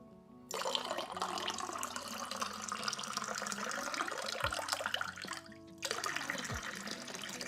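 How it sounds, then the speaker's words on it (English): A tap runs water into a container at a desk, a steady close rushing and splashing that stops briefly near the end before resuming. "It's time to fill up more water."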